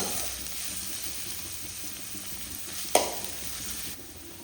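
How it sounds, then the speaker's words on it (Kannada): Onion, curry leaves and garlic fry in a pan with a steady, fairly quiet sizzle, broken by one sharp clink from a utensil partway through before the sizzle settles lower. "ಈರುಳ್ಳಿ ಸ್ವಲ್ಪ ಫ್ರೈ ಆಗಿದೆ ಹಾಗೆಯೇ ಬೆಳ್ಳುಳ್ಳಿ ಕೂಡ ಫ್ರೈ ಆಗಬೇಕು"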